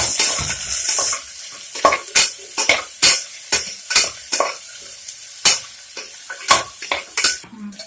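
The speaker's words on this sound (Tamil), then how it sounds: "அப்புறம் 2 ஆனியன் வெட்டி வச்சதை ஆட் பண்ணிக்கலாம். நல்லா ப்ரௌனிஷாக ஆகிற வரைக்கும் அதை கொஞ்சம்" Chopped onions with green chillies sauté in a pan for vegetable biryani, a soft sizzle broken by a steady series of sharp spoon scrapes and clinks against the pan, each stir clear and close.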